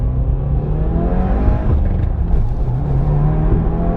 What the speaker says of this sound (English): we'll do a little quick first gear.